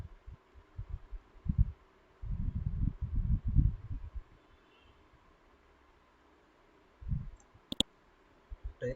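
Computer mouse clicks, soft and close, in a few small clusters with quiet gaps between them, plus a sharper click near the end against a faint room hum.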